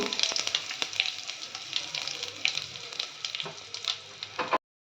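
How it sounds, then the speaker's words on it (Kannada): Mustard seeds, cumin, chilli and asafoetida fry in hot oil in a pot, giving a close, bright sizzle with scattered pops and crackles that cuts off abruptly. "ಒಂದು ಪಾತ್ರೆಗೆ 4 ಸ್ಪೂನ್ ಎಣ್ಣೆ ಹಾಕ್ಕೊಳ್ತೀನಿ. ಸಾಸಿವೆ ಜೀರಿಗೆ ಹಾಕ್ಕೊಳ್ತೀನಿ. ಮೆಣಸಿನ್ಕಾಯಿ ಜೊತೆಗೆ ಹಿಂಗು,"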